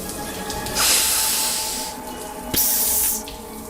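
Water runs in a shower as a broad, close hiss that swells in two strong surges with softer spray between them, and no one speaks.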